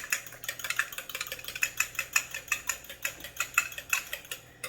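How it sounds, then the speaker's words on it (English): Eggs whisked briskly in a bowl for an omelette, a fast even series of close, light clicking taps from the whisk against the bowl, steady throughout with no talking. "So first thing we're gonna do, just whisk it"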